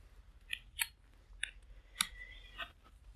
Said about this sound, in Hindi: यहाँ पर अब मैं बैटरी को ओपन कर लेता हूँ